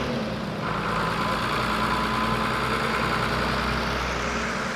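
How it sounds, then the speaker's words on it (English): A tractor engine drones steadily in the background at a farm tractor day, a constant low rumble with no other sounds over it. "a noisy tractor in the background. He's coming this way"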